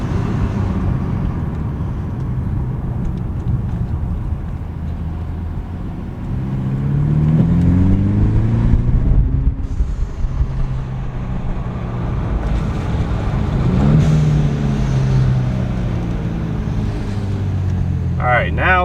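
Mercedes E300 fitted with a QTP exhaust cutout, driving as heard from inside the cabin, with a steady low engine and exhaust drone that swells twice as it accelerates.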